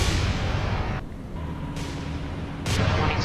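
Naval gunfire in the warship game War on the Sea sounds as a loud, dense roar of heavy booms, with sudden bursts at the start and end and a steady rumble between them.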